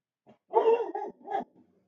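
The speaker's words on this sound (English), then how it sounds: "Sorry about my dogs. I don't know what the heck they're barking at" Dogs barking indoors, a couple of short muffled barks heard close and moderately loud in one brief burst, with a softer yelp trailing off.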